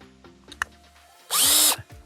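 A power drill drives screws into an electric fence insulator, giving one loud, steady burst of about half a second after a few light clicks and handling taps.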